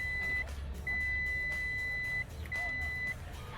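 An electrical multimeter on continuity test gives three steady high-pitched beeps of differing lengths, with short gaps between, over a low background hum.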